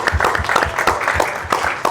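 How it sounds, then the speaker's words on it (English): Audience applause for Tesla engineering staff at an outdoor event in bad weather, a steady burst of clapping from a crowd that fills the short moment without talk. "Let's just give you guys a round of applause."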